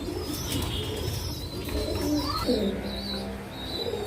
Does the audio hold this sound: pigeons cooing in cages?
yes